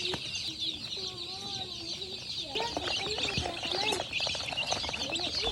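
Chickens and young chicks in a homemade coop, with soft chirps and clucks early on, then denser, louder overlapping clucking and cheeping from several birds nearby over a steady hiss of background noise.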